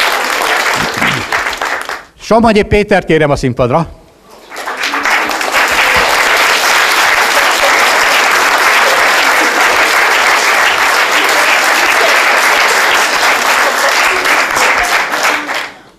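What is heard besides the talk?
audience applause for Marika and Péter Somogyi at a ceremony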